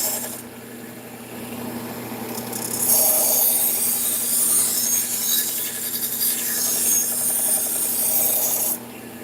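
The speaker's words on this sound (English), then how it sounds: "600 grit belt. This one just refines that edge, gets rid of some of the burr." A knife edge is drawn across a 600 grit belt on a belt grinder, a steady abrasive whirring hiss that grows louder as the blade presses in, then drops off near the end.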